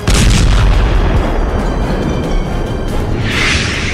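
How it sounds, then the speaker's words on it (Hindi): A drone explosion: a loud, deep explosive boom with a rumbling roar that slowly fades, followed by a brief hissing burst near the end. "क्रेमलिन के ऊपर ड्रोन का धमाका।"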